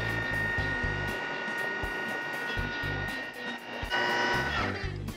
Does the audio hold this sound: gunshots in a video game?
no